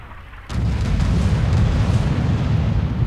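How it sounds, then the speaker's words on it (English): Artillery shells exploding in the Red Orchestra 2 video game: after a brief quiet, a loud, sustained low rumble of blasts rolls in and keeps booming to the end. "artillery incoming"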